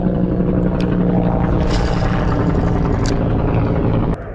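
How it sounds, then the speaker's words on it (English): A helicopter passes over open water during a fishing outing, its rotor and engine drone a steady, loud broadband roar that holds for several seconds before dropping slightly at the end. "There's always helicopters flying around out here."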